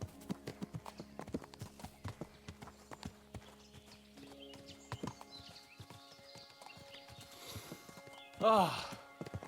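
Horses' hooves clip-clop at a walking pace in the medieval video game Kingdom Come: Deliverance II, steady and fairly quiet, with a short horse snort or whinny near the end.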